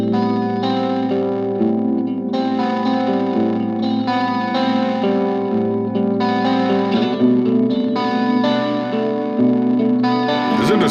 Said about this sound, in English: So it adds like a little warble, kind of little weeble wobble